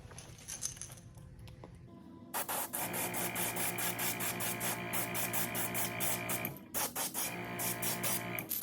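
An airbrush sprays white paint onto a realistic bluegill fishing lure, giving a steady airy hiss that starts after a brief pause and runs on with a short break near the end, loud and close.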